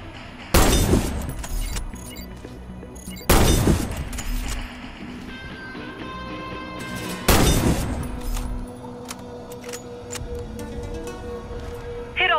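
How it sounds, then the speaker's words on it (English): Sniper rifle shots at targets in the shooter game Warface, three loud, sharp cracks spaced a few seconds apart, each trailing into a ringing decay with faint mechanical clicks between them. "Hit all the targets with your Sniper rifle."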